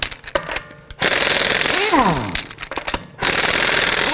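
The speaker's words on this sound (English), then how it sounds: "Using our 21mm socket, we're going to loosen and remove the lug nuts." Impact wrench with a 21mm socket loosening lug nuts on a 2018-2024 Toyota Camry 2.5L, loud rattling hammer bursts in two long runs, with a falling whine as the tool spins down between them.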